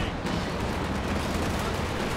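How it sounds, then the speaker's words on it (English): A Katyusha rocket barrage in Company of Heroes 2, a dense continuous rumbling roar of launches and impacts in a 4v4 battle, loud and unbroken for about two seconds. "Katyusha barrage though."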